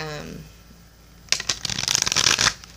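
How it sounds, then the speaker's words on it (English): A tarot deck, the Illuminated Tarot, is shuffled by hand in a quick run of crisp, riffling card flutters after a brief quiet start with a faint tone, close and fairly loud. "Now I'm going to shuffle for you from the Illuminated Tarot deck."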